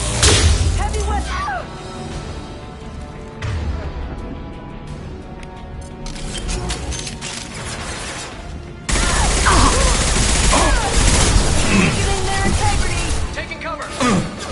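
Heavy weapon fire in Mass Effect 2, loud repeated blasts and crashing bursts over ongoing battle noise, with a sharp jump into a heavier barrage near the nine-second mark; voices shout amid the combat.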